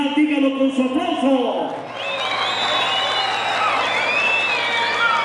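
Audience at a horse event in Zirimbo, Michoacán, breaks into sustained applause with whistles and cheering that fills the space after a brief spoken announcement.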